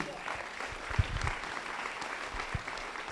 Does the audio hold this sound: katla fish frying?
no